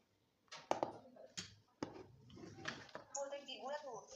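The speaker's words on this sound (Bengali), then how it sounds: "এটাকে একটু নেড়ে চেড়ে মিক্স করে নেব" A spoon stirs and mixes powdered milk in a bowl, giving a few sharp clinks and scrapes against the bowl at an uneven pace, with someone talking over and between the strokes.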